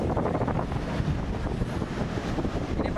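Strong wind buffets the microphone on Parangtritis beach in Yogyakarta, with a steady rush of surf beneath it, loud and continuous throughout.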